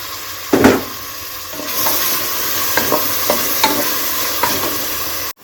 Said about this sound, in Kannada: ಟೊಮೆಟೊ ರೋಸ್ಟ್ ಆಗ್ತಾ ಇದೆ ಇವಾಗ ಟೊಮೆಟೊ ಹಾಕೊತಾ ಇದ್ದೀನಿ